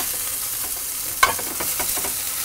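Scallops sear in a hot pan with a steady, soft hiss and one sharp clink of a utensil against the pan midway, close and without talking.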